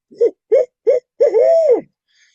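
A voice imitates an owl: three short hoots followed by a long drawn-out wavering call, close and alone.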